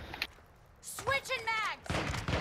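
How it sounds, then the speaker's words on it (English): A deployed sentry gun fires at a target in a shooter video game, with short bursts of gunfire at the start, middle and end, and a voice speaking between them. "Sentry gun deployed. Visual on target."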